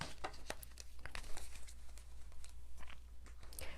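Tarot cards are shuffled by hand, a quick run of close, papery riffles and soft slaps that continues steadily with no speech.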